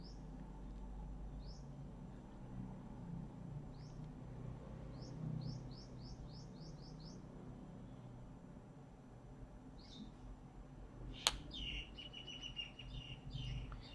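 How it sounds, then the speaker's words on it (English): Birds twitter outdoors on a morning, with short, faint, high chirps coming in scattered clusters over a low indoor hum, then a brief sharp click followed by a quick run of trills near the end. "I'm not sure if you can hear them twittering away outside."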